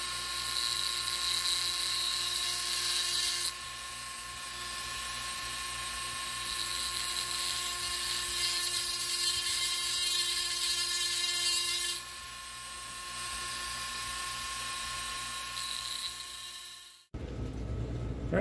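A drill bit bores a starter hole while a small tray of water keeps the bit cool and wet, making a steady high whine with a rougher cutting grind that swells in the middle and stops abruptly near the end.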